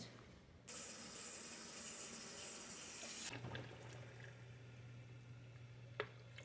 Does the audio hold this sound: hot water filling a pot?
yes